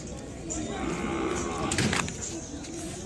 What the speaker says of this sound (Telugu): ఇవ్వండి ఇవన్నీ ఆవులు అమ్మకానికి